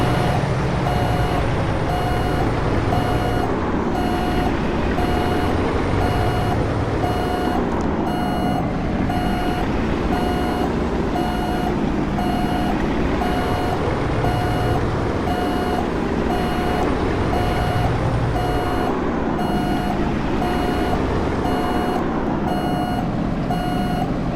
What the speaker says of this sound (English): As good as the stacks look, that doesn't help when I'm trying to reverse my trailer.